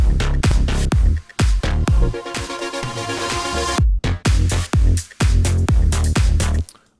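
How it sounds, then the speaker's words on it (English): A loud, throbbing synth with a rhythmic wobble over heavy kick and drums, cutting in and out in choppy bursts. "Then I also have the wobble synth."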